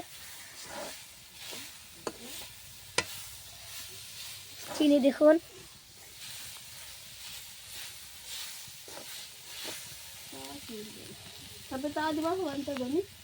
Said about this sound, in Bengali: দেখুন এখন অলরেডি নারকেল ভাজা হচ্ছে